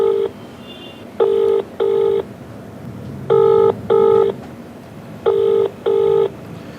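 A telephone dials out for a call: seven short, loud electronic keypad tones, mostly in quick pairs separated by brief pauses, over a quiet background.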